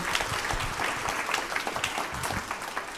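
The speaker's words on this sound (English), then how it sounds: "Let's give Jamila and Jasmine a round of applause" A lunchtime history talk audience gives a round of applause, a moderate, fairly quiet patter of clapping hands that continues evenly for a few seconds.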